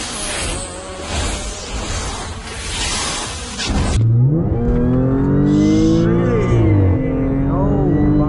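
A 500hp E85 Audi A6 with launch control accelerates hard through the gears, engine and exhaust rising loudly and closely, with cabin noise beforehand and brief voices.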